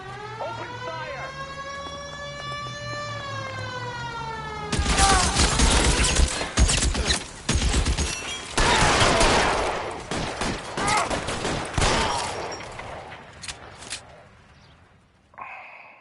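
A shootout in the 1940s Los Angeles crime game LA Noire erupts after a wailing siren. Loud, close pistol and machine-gun fire cracks in dense, uneven volleys for about ten seconds, then thins out and stops, with shouted voices amid the shots.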